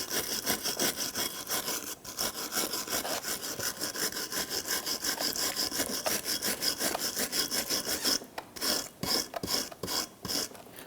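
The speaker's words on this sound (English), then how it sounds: "you want to go ahead and use a flat file, clean that surface" A flat file scrapes scaly rust buildup off the brake surface of a 2008-2013 Nissan Rogue rear brake, rapid rhythmic rasping strokes, close and steady, without speech.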